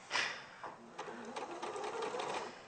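Sewing machine running a few short bursts of stitches at a Wonderland-themed craft session, a steady mechanical whirr that starts and stops, fairly faint and close, with no talk over it.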